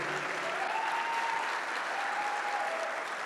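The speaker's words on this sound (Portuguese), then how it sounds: "Vocês podem aplaudir o pastor de vocês? Aplauda forte, por favor." A church congregation applauds their pastor in a steady, even wash of clapping that stays moderately distant and fills the whole moment.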